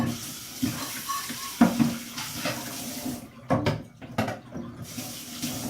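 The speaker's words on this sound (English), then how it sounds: "Rinse my hands off." A kitchen tap runs in a sink while hands are rinsed under it, a steady close splashing flow broken by brief bursts and pauses as the hands move through the stream.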